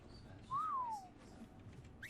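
A single short rising-then-falling whistle sounds in the video game Ark as a player calls a flying creature down, clear and alone over quiet background noise.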